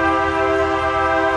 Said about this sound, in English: there's a train right behind me there, can you hear it?